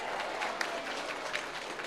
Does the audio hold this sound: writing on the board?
no